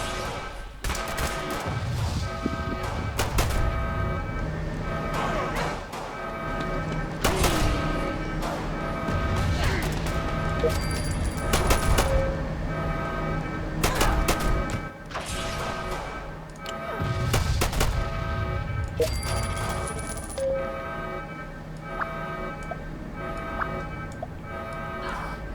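Laser gun fire from a Fallout Shelter vault battle, heard as repeated zapping shots and bursts over dense, busy game music and effects throughout.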